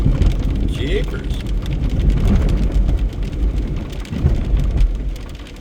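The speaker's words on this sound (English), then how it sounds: "35 degrees and raining, thunderstorming." Heavy rain pours during a thunderstorm on a hot day at a working locomotive yard, a dense, steady hiss of drops with low rumbling underneath throughout.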